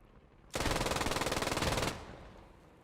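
Sustained burst of machine gun fire in the video game Post Scriptum, about one and a half seconds of rapid, loud, evenly spaced shots that start abruptly and then cut off into a quiet tail.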